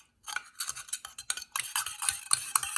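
A spoon stirs homemade toner lotion in a small bowl, quick rhythmic clinking and swishing strokes repeating close up, fairly soft and steady.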